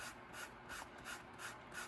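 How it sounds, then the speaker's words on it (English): A 400-grit sanding block rubbed by hand across a trifold surface in one direction, giving soft, even back-and-forth scratchy strokes at a steady rhythm, close and fairly quiet with no talking. "We'll just take our little sanding block, 400. Give it a quick little sand, like so."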